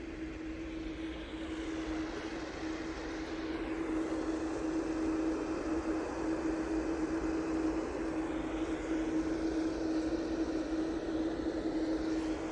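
A jet airliner at Manchester Airport, a Jet2 flight bound for Dalaman, roars steadily, loud and near, with a sustained low tone and a broad rushing noise. A shifting whine rises as it goes by.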